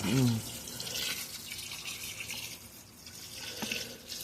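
A new washing machine fills with water, a soft continuous rush and trickle heard at low level, with faint household noise around it.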